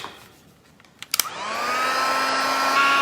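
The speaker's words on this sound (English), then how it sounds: "Heat tool, is here. Just close your ears for a second." A craft heat tool for embossing blows hot air in a loud, steady whirring roar that starts after a few clicks and holds close and constant.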